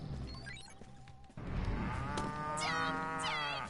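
A cow moos in the Destroy All Humans remake video game, a long, loud, close low moo that rises and bends in pitch, following a brief stretch of quieter background noise.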